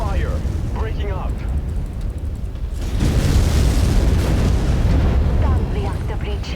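A mech reactor breach in MechWarrior 5: Mercenaries erupts into a heavy, rumbling explosion that swells midway and lingers as a roaring wash, with radio voices talking beneath the combat din.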